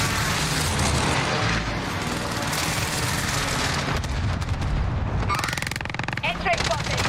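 Dense, continuous rumbling explosions from a precision airstrike in a military shooter game roar loudly and without pause, with speech mixed in among the blasts.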